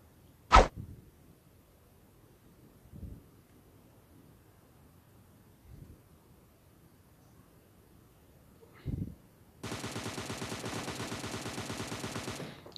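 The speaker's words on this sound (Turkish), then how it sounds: "Lan lan yanlışlıkla sıktım." Gunshots in the mobile battle-royale game PUBG Mobile: one loud crack, then a few fainter scattered shots, ending in a steady burst of rapid automatic fire lasting about three seconds.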